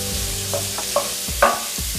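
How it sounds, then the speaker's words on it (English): Shrimp stirred in a pan of hot olive oil, a steady sizzle with a few soft scrapes and knocks of the utensil, close and continuous with no talking. "Keep stirring so that the shrimp doesn't cook too much on one side."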